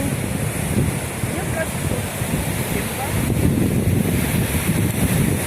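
Steady wind buffeting the microphone over a low, continuous wash of surf at the seaside during Typhoon Goring, fairly loud throughout with no clear break between waves.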